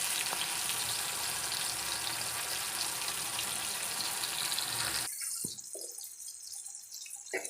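Moth bean ghughri tempering (vaghar) sizzles loudly and steadily in hot oil for about five seconds, then cuts off abruptly, leaving a few faint clinks and small bubbling sounds.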